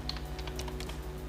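Rapid typing on a computer keyboard while entering page content in WordPress, a steady run of close, crisp key clicks with no talking.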